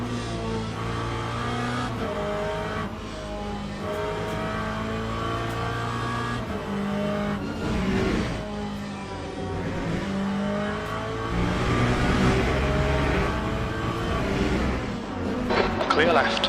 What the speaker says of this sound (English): Faster car approaching. He's racing us for position.